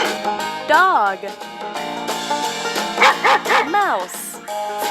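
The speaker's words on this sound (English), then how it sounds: "Dog." Dog barks and yips in short bursts over music in a farm-animal kids' game, with a cluster of quick barks near the end, close and clear.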